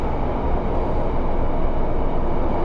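A Class 150 Sprinter diesel train on a Transport for Wales service near Cardiff braking: a steady, heavy rumble with broad rolling noise, close and continuous, with no voices.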